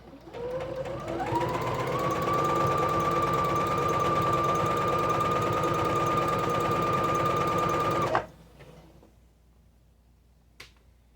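A sewing machine stitches the side seams of lined kitchen curtains, one steady close run of whirring motor and rapid needle clatter for about seven seconds, then it stops and a faint click follows.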